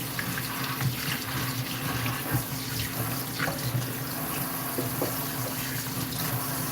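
Tap water runs steadily into a kitchen sink as dirty celery is rinsed, a continuous close hiss with occasional splashy surges from handling the stalks, and no talking.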